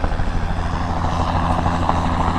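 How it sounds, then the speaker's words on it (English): A helicopter flies overhead in a storm-damaged town, its engine and rotors a steady, loud, continuous drone with no voices. "Helicopter."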